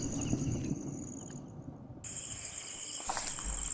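Crickets chirping at night in an abandoned subdivision, a steady high-pitched trill that drops out briefly and then resumes, with faint rustling underneath.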